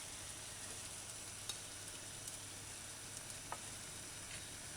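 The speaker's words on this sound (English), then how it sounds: "So add the shredded garlic and ginger" Shredded garlic and ginger sizzle in hot oil in a saucepan used as a wok, a steady close crackling hiss with a few small pops and no talking.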